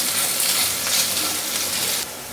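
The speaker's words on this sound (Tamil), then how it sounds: "இஞ்சி பூண்டு பச்சை வாசம் போகிற அளவுக்கு பரட்டி விட்டுலாம்" Crushed ginger and garlic frying in coconut oil for a shredded chicken fry make a loud, dense crackling sizzle close up, steady for about two seconds before easing slightly, and no voices.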